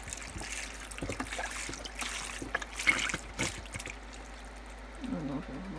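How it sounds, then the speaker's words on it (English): Broth trickles and splashes into a pot holding cauliflower, celery, saffron and sea salt for soup. It is a quiet, close, irregular liquid pour with faint background noise. "then I'm gonna put all the broth."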